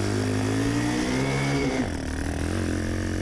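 Custom 1967 Honda CT90 motorcycle with a swapped YX140 engine, a close steady droning engine note that climbs in pitch, dips briefly as the load changes, then settles into a lower pull, with wind noise throughout.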